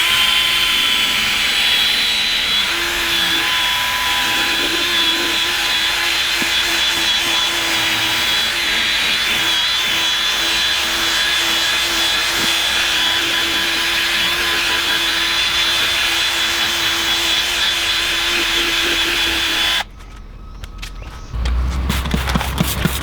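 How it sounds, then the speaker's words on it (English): Car headlight lens being wet sanded by hand with a 4000 grit pad: a continuous close, loud scrubbing hiss with steady rubbing strokes, stopping abruptly near the end followed by a few handling knocks. "as far as our wet sanding goes, we have the blue pad, which I believe is 4000 grit"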